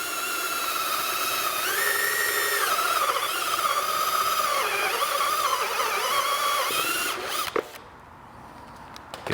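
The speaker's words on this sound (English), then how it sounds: "This drill sounding pretty pathetic." A power drill bores a hole through Vespa scooter plastic, its motor whining steadily with wavering pitch for about seven seconds before stopping, heard up close with no talking.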